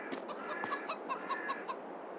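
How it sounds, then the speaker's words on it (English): Chickens in Farming Simulator 22 cluck steadily in a farmyard coop, a flock of many birds giving repeated short clucks at a moderate, even level with no talking. "Then we have our food for our chickens."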